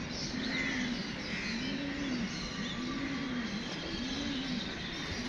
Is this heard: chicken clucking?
no